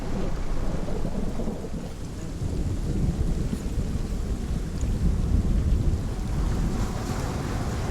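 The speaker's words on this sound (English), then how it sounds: "it's cold and raining again" Steady heavy rain with deep, rolling rumbles of thunder swelling and fading throughout in the video game Hellblade: Senua's Sacrifice, a dense, loud storm with no voices.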